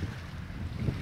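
Warm sea lapping at a hotel beach on the Abu Dhabi Corniche, a soft low wash of waves with steady wind rumble across the microphone, fairly close and even throughout.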